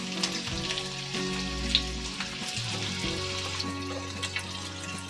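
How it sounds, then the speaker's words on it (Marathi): Chopped onion hits hot oil in a pan with a couple of spoonfuls of oil, setting off a steady close sizzle and crackle that continues throughout with no talking. "आता कांदा घालते भाजायला."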